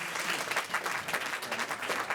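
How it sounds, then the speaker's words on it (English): Brief burst of dense applause from the room at a county commission meeting, even and sustained, with no voices over it. "Thank you for the applause."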